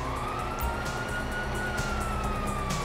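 A wailing police siren in the video game GTA 5 sweeps up and down over a steady rumbling background, continuous and fairly loud, with no talking.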